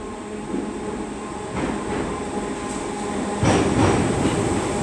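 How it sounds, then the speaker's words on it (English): A British Rail Class 507 electric multiple unit passes close by, a sustained rolling roar with rail rumble and wheel clatter that grows louder as it nears, with no talk over it. "It sounds like a 507."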